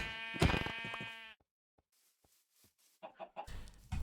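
A Minecraft sheep gives one loud, wavering bleat up close, followed by faint scattered clicks and a few short soft blocky sounds.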